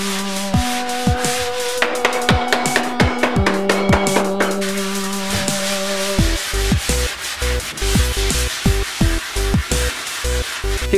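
A patching trowel scrapes caulk from the top of crown molding, a near, loud run of rhythmic rasping strokes that quicken partway through, with no voices.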